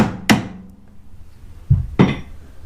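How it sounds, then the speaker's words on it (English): Three sharp metallic taps from a small hammer on a 5mm nut of a scooter's front suspension arm, one early and then a close pair, ringing briefly in a quiet space. "Let me give it a chap with my small hammer."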